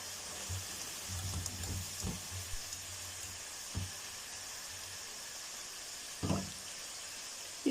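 Okra and potatoes frying in oil in a kadhai give a soft, continuous sizzle and hiss, with a few scattered clinks and knocks of utensils against the pan.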